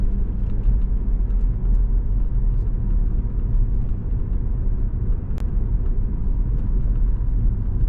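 Steady low road rumble and engine drone inside a high-mileage Saab 9-5 cruising at 30 mph, continuous and fairly loud with no talking.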